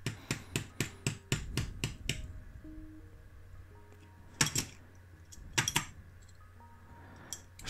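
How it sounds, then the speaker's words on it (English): A part from a 1970 Ford Capri is bashed to knock out loose dirt and mud, starting with a quick run of sharp, evenly spaced knocks and then giving a few scattered heavier strikes and scraping rubs. "just bashing out all the loose dirt, mud."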